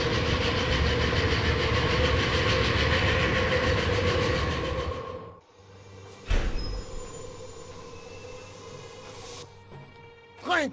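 Orient Express train in a video game, a loud steady rumbling run that drops away abruptly midway, followed by quieter interior sounds with a couple of sharp clunks.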